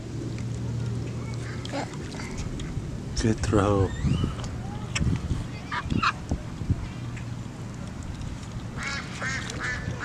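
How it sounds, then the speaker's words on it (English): Ducks quack and honk at a park pond where people feed birds, several loud nearby calls in bursts over steady outdoor background, with people talking between them. "See the ducks?"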